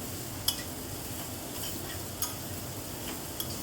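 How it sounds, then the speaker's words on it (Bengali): A spatula stirs a Bengali drumstick-leaf curry (sojne shak) in the pan, giving a low steady sizzle and a few sharp scrapes and clinks against the metal at spaced intervals. "এবার এই খুন্তির সাহায্যে সব কিছু জিনিস ভালো করে মিশিয়ে নিতে হবে।"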